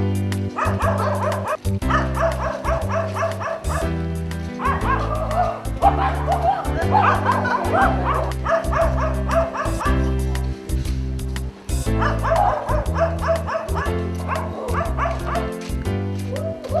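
Dogs yapping and bow-wowing out in a street, repeated barks and whimpers running steadily over a loud background of music.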